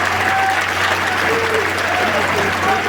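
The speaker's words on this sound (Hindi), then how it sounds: "जोरदार ताली बजनी चाहिए, कड़कड़ा जानी चाहिए।" Loud, dense applause from a crowd at an outdoor political rally for a BJP MP, a steady roar of clapping that holds throughout, with a voice audible underneath.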